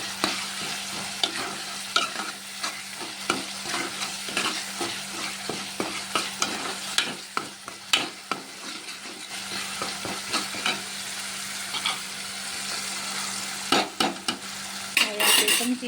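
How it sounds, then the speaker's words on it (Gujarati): A spoon stirs Kathiyawadi-style eggplant oro (baingan bharta) in a pan, with continuous sizzling frying and repeated close scraping and tapping strokes against the metal, with no voices. "ચમચી લઈ લઈએ અને આપણે જે દાંડલા રાખ્યા હતા એ દાંડલાથી એકદમ સરસ રીતે આપણે આવી રીતે મિક્સ કરી દઈએ."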